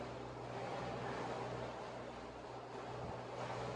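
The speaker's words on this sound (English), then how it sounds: "We ran out of wind, so yeah, you can hear the engines going." A sailboat motoring at sea on its engines with no wind gives off a steady low hum under a broad wash of water and wind noise, continuous and fairly faint.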